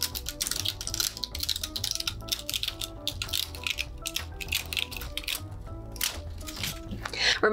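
Cut pieces of party foil confetti being peeled off a cutting mat by hand, giving a steady run of close crinkling, rattling and tearing sounds with quick irregular crackles over quiet background music.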